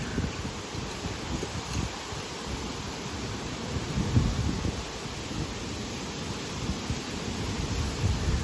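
Steady wind blows outside a teepee at night, making a continuous low rushing roar with gentle gusts and buffeting, heard up close with no one talking.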